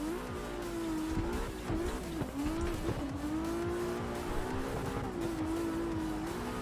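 Drift cars in a racing game, with a GT-R, Supras and S-chassis, hold long wavering tire squeals over a steady engine drone. The sound is continuous and mid-distance, with no talking.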